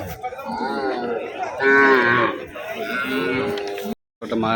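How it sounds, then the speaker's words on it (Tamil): Cattle at a livestock market moo loudly and close by, several long, drawn-out calls overlapping one another, with a brief silence near the end. "மாடுங்க."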